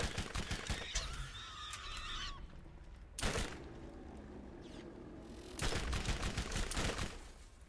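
Rock launcher shots in the Borderlands shooter, a few sharp blasts separated by pauses, mixed with gunfire and game effects, loud and close, with no talking.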